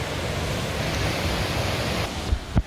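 A waterfall in Thailand, viewed from higher up, rushes as a broad continuous hiss that stays steady throughout, with a couple of brief bumps near the end.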